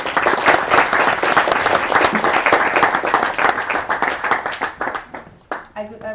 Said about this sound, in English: A big round of applause to Sarah